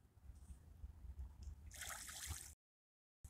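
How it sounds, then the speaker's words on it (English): Small waves lap against a shore on a quiet morning, with faint gentle trickling and dribbling that builds to a brief, brighter splash before cutting to silence. "the sound of the waves lapping against the shore"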